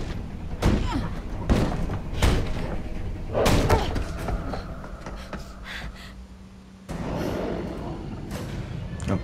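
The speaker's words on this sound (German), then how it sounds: "Tür zu!" A door slams shut in the horror game The Quarry: several hard, close thuds and bangs in quick succession, then a quieter stretch before a final thump, with game ambience underneath.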